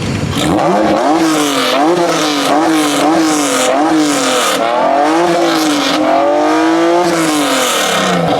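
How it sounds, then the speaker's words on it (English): At a two-step rev battle event, a car with a very loud exhaust revs hard in repeated rising and falling bursts, close and aggressive, continuous for several seconds with crowd noise beneath. "we're going to hear some crazy loud exhaust in a second"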